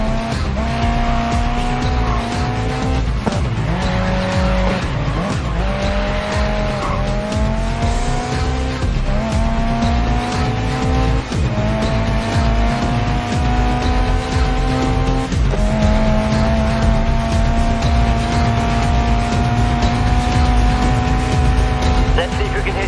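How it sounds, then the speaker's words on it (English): Race car tires squeal and skid through a handbrake slide in GRID Legends, long wailing screeches rising and falling over a loud, constant engine roar, with a voice talking over it. "Try a corner with a touch of handbrake. I'd like to see you control the slide."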